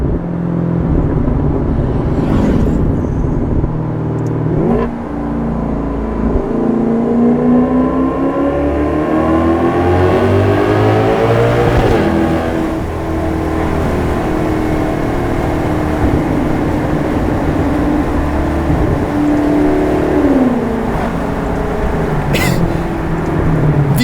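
Maserati GranTurismo engine revving steadily and loudly, a rich continuous rumble with rising and falling pitch sweeps as the revs climb and drop, close by with no talk over it.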